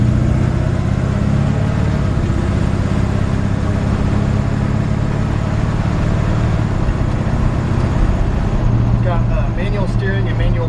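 A 1953 Ford F100 pickup with a 327 V8 and automatic transmission drives along, its engine droning loud and steady from start to finish, with a brief voice near the end.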